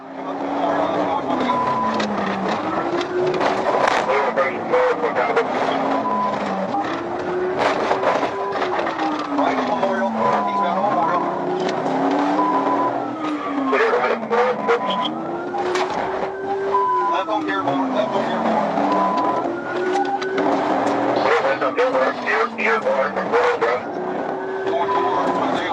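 A fleeing car in a California police chase revs hard again and again, its engine note climbing and dropping through repeated gear shifts, loud and close for the whole stretch.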